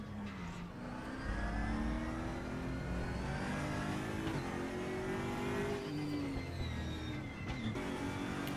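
A car engine revving steadily in a free racing video game on Steam, a continuous mid-pitched motor drone with rising and falling revs and shifting gear tones, moderately loud and without speech.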